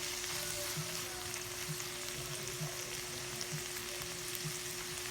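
Ampalaya, bitter gourd, fries in a pan with a steady, quiet sizzle, a faint repeating hum underneath and no talk.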